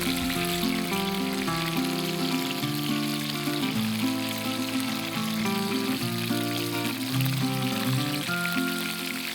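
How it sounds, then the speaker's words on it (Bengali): Pieces of hilsa fish fry in hot oil in a television kitchen, a steady hiss and sizzle running underneath prominent background music throughout. "মাছ ভাজা হয়ে গেছে, মাছ তুলে নেওয়া হলো।"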